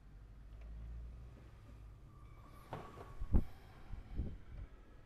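An Epson L380 inkjet printer powers on and runs with a low steady motor hum, then gives a few louder mechanical clunks and whirs near the end.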